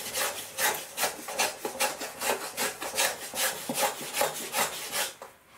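A balsa wood block is planed and shaped by hand into a model aircraft fuselage, giving steady, rhythmic rasping strokes about twice a second, close and moderately loud with no voices.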